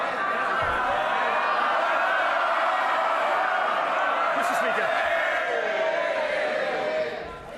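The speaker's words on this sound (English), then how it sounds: "They're cheering and laughing because they love this." MPs in the House of Commons chamber roar with cheers, jeers and laughter during the British Steel emergency bill debate, a dense, loud, continuous crowd din with shouting voices throughout before easing at the end.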